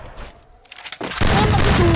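Gunfire in a shooting video game: after a quieter stretch with faint shots, a loud burst of rapid shots erupts and continues densely to the end, with a voice briefly talking early on.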